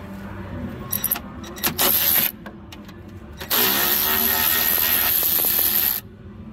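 An 18V Ryobi One+ cordless ratchet turning a 13 mm socket runs in two bursts, one short and one longer steady whir, with faint clicks and handling between.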